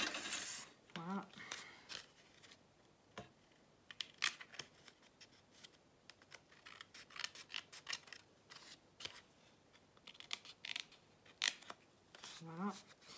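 Scissors snip through paper while crafting junk-journal embellishments, a quiet close series of crisp irregular cuts with short pauses, plus faint brief murmurs and soft handling rustles.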